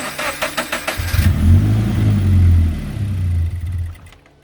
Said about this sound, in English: we should be theoretically good to start the car